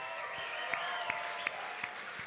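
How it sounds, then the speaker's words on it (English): Faint applause from a whisky awards audience, a soft steady patter of hands heard at a distance, with a few sharper claps standing out. "a big cheer and applause for each of them"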